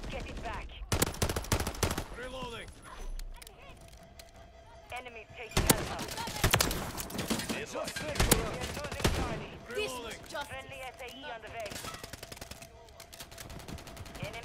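Call of Duty gunfire: rapid automatic bursts and single shots crackling in irregular clusters, loud and close, with someone shouting and talking over the shooting.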